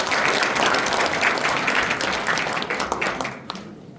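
An audience at a political report meeting in a Cheongju gymnasium gives loud sustained applause to welcome a speaker. The dense clapping carries on steadily, then thins and dies away near the end.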